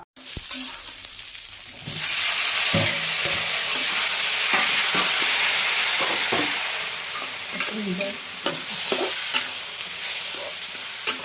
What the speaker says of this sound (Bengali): আর এতে আছে আলু, টমেটো, কাঁচা লঙ্কা, পেঁয়াজ, রসুন, এগুলো সমস্ত একসাথে দিব। এটাকে ফ্রাই করব।